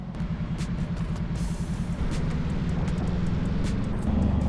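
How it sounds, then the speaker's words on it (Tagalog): Heavy, congested road traffic on EDSA in Manila, heard as a steady, loud low rumble of engines that swells slightly toward the end, with no voices. "Ay, grabe ang traffic, man."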